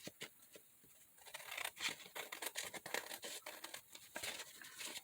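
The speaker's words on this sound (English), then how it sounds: "Cut off all the extras." Scissors trimming excess from 12x12 paper sheets, close and quiet, a run of crisp snipping and crinkling paper sounds in an irregular rhythm.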